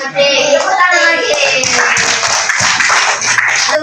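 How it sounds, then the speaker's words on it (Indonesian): Children in a classroom clap their hands together, a busy burst of claps layered under children's voices and chatter throughout. "Tepuk tangan lagi"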